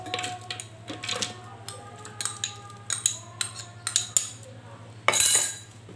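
Sautéed spices being ground for grilled catfish, a series of clinking, scraping strikes in a kitchen over a steady low hum, ending in a louder burst of grinding.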